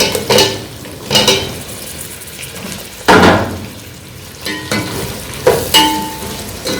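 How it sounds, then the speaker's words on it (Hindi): Chicken shreds and potatoes frying in a pot for biryani, with scraping and metal clatter as the mixture is stirred, coming in several sharp bursts over a steady background sizzle; no voices. "अच्छी तरह मैं चिकन के रेशे भून लिए हैं और अब इसमें डालते हैं आलू डालते हैं इसमें"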